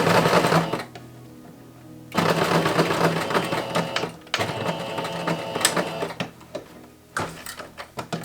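A sewing machine stitches a collar in place on an 1890s chemise, running in three steady bursts of rapid needle clatter split by short pauses.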